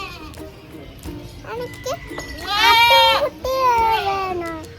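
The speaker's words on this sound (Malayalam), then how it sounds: "ചെമ്മരിയാട് നിൽക്കുന്നു" Several loud, wavering bleats from a sheep nearby on a farm, coming in quick succession over faint background voices and outdoor noise.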